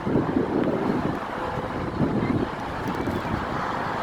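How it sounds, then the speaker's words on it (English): Rough, gusty wind buffets a microphone at a high, exposed spot, producing a continuous low rumble that swells and eases in uneven pulses with no voices. "It's pretty windy up here."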